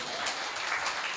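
A church congregation claps together in steady, dense applause at moderate level, continuous throughout with no speech over it.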